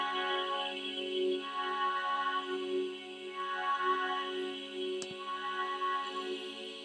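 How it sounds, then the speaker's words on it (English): A sustained choir pad sample from the Alchemy synth, sitting in a steady layered chord with slow swelling movement, moderately quiet and playing alone without any talking. "a choir from Alchemy,"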